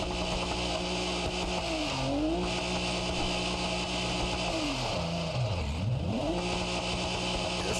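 Engine of a rear-wheel-drive G8X car in BeamNG revving while the tires warm up, a loud continuous drone that climbs and dips in pitch twice, with faint tire noise and no talking.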